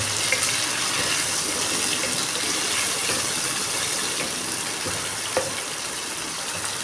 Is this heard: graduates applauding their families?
no